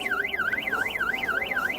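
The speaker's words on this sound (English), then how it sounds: "The screeching car alarm draws everyone outside" A screeching car alarm going off near a vintage Toyota hatchback, its loud siren sweeping up and down in a fast, regular wail that repeats about every quarter second, with nothing else over it.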